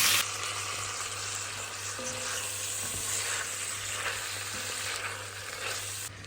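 Meat and onions sizzle together in a pan for a Persian khoresh gheymeh stew, a steady close frying hiss with faint stirring clinks throughout.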